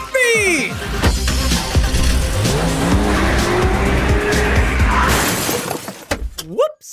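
A Ferrari in a Fortnite animation speeds off, its tires squealing and sliding in rising whines before a loud crash with shattering debris, engine roar throughout and excited voices over the noise.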